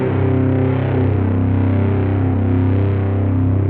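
Guitar played through a Mixwave Benson Monarch amp effect, a thick distorted sustained tone with slow wobbling tape-style fluctuation, loud and continuous with no talk.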